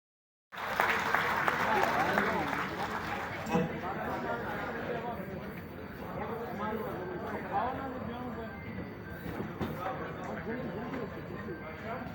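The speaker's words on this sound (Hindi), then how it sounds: "राइटर डायरेक्टर आपकी तालियों में तशरीफ लाएंगे जनाब एच इकबाल साहब।" Audience applause at an event at the Arts Council in Karachi, Pakistan, welcoming a writer-director onto the stage, with sustained clapping from a large crowd that fills the hall for about twelve seconds under faint chatter.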